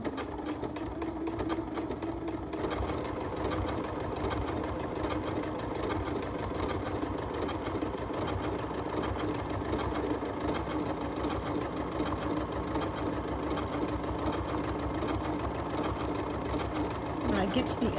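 A Janome MC9450 sewing machine stitches an applique in a steady, close mechanical whir with rapid needle rhythm, running continuously while a person talks over it.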